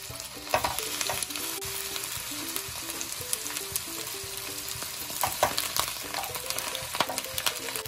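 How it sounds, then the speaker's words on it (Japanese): Cabbage sears in olive oil in a frying pan, giving a steady close sizzle with intermittent scraping stirs and soft clinks as it cooks. "フライパンにオリーブオイルです。 でキャベツ、焼き目つけていきます。"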